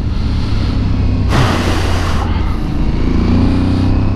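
An Aprilia Tuareg 660 motorcycle ridden on the road, with a loud, steady engine drone and rushing wind noise that surges briefly in the middle and then settles back to a constant roar.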